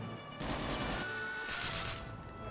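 Bursts of rapid gunfire crackle in quick succession, loud and close, with brief pauses between volleys, in the video game Medal of Honor: Rising Sun.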